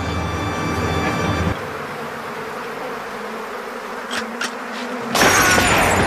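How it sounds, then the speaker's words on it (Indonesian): A swarm of vampire bees in a horror film buzzes loudly and steadily throughout, shifting in tone partway through before surging again near the end. "Hingga membuat lebah-lebah vampir tersebut malah berbalik menyerang Roy hingga tewas."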